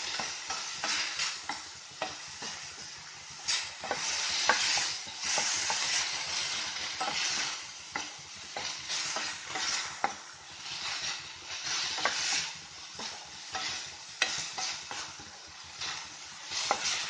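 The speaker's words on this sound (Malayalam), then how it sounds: "നന്നായിട്ട് വഴറ്റി കൊടുക്കാം." Tomatoes and onions sautéing in a pan for a cauliflower masala gravy, with a steady close sizzle and frequent scraping stirs throughout, no voices.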